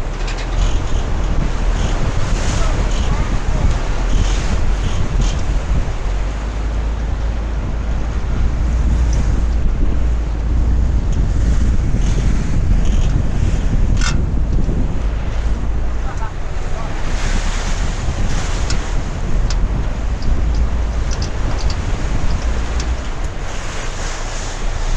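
Strong river rapids at Pelagus surge and crash around a boat, a loud, continuous rush of churning water with heavy wind buffeting the microphone throughout.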